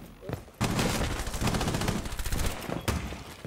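Gunfire in Rainbow Six Siege, a rapid burst of automatic shots rattling for a couple of seconds after a sharp opening crack, close and loud, followed by another single shot.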